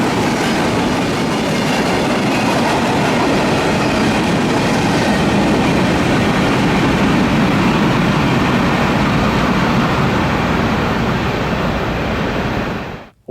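A Norfolk Southern freight train on the Chicago Line rolls steadily past, its last cars 8-axle flatcars, with a continuous loud rumble and clatter of wheels on rail until it cuts off abruptly.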